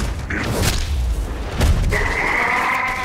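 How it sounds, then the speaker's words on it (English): Superpowered bare-handed melee combat against aliens in the video game Saints Row 4, with a couple of heavy booming thuds and impacts followed by a sustained whooshing energy tone, loud and up close. "I'm going to use my superpowers to take them out with my bare hands"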